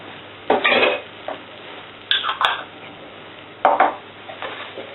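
A spoon stirs ginger and spices frying in a pan for a mutton curry: three distinct scraping, clattering strokes against the pan over a faint steady sizzle.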